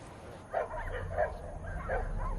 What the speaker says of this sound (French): aux portes de la ville, rôdent de nombreuses bandes de chiens sauvages